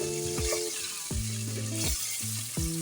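Salted fish being stir-fried in a pan with mushroom broth, ground pepper and a little sugar: a steady close sizzle broken by several repeated scraping stirring strokes, with no talk.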